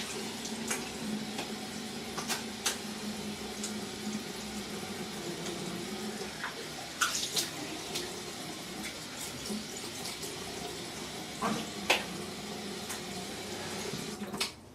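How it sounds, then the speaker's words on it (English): Water runs from a bathroom sink tap as a face is rinsed after a safety-razor shave, a soft steady flow with occasional splashes and clinks, fairly quiet and without speech. "let me rinse my face real quick"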